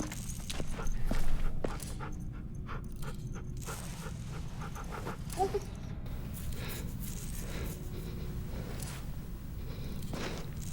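Dog panting and faint whimpers in The Walking Dead video game, low and steady under game ambience, with occasional soft thumps and a brief louder stretch early on.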